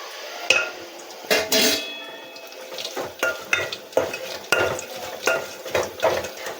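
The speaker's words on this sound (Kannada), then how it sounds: "ಬ್ಯಾಡಗಿ ಮೆಣಸಿನ್ಕಾಯಿ ಹಾಕ್ಕೊಳ್ಳೋಣ." Byadgi chillies dropped into a hot pan for rasam, with sizzling frying under repeated stirring and clinks of a spoon against the metal pan, bursts coming in uneven pulses with no talk.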